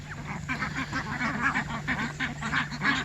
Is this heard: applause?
no